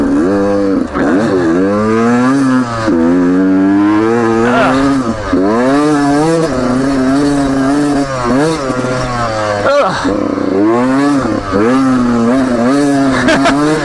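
A 2019 Beta 125 RR Race Edition two-stroke dirt bike revs hard in sand, its engine note rising and falling in repeated loud, close sweeps that continue without pause.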